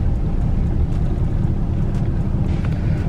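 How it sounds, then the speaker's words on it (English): A loud truck engine rumbles close by in traffic, a dense, steady low drone with wind noise that stays constant and unbroken and has no talk over it. "truck in front of me is so fucking loud."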